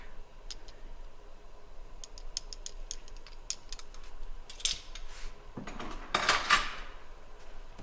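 A spoon stirs beef stew in a pot, giving faint, irregular metallic clinks and taps against the pot over a quiet background hiss, with no voices.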